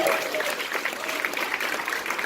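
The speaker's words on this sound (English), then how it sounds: "Give yourselves a big round of applause" An audience claps enthusiastically, a dense, steady burst of applause from a crowd filling the room at a film screening Q&A.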